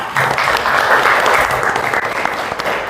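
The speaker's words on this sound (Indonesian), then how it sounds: "kita beri aplaus untuk teman kita ya" A classroom of students applauds classmates after a group presentation, a dense, steady burst of clapping from many hands that holds for about three seconds, with a few faint voices mixed in.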